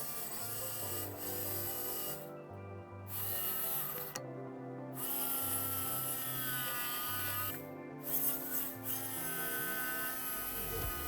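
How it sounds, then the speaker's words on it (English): Jigsaw cuts out a wooden knife template, buzzing steadily in close bursts with short pauses between cuts as the blade follows a drawn line. "we're going to grab our jigsaw and just go on the outside of the line that we drew"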